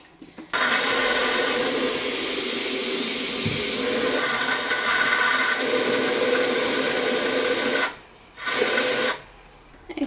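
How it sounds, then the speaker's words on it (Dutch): Tap water pours steadily into an electric kettle for half a noodle dish, a loud continuous rushing hiss lasting several seconds, briefly cutting off and resuming near the end. "dan pak ik even de waterkoker erbij en die vul ik dan met water"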